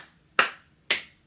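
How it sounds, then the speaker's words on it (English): Two crisp hand claps ring out about half a second apart, close and sharp, each fading quickly into near silence. "You put your hands together and you clap like this."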